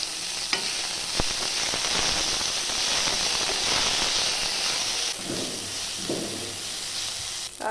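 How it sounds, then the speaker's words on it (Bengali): Chopped onion and tomato sizzle in hot oil in a wok, a steady bright frying hiss with clattering stirring, easing slightly toward the end. "গরম হয়ে যাওয়া তেলে দিয়ে দিলাম কুচানো পেঁয়াজ। এইবার দেব টমেটো।"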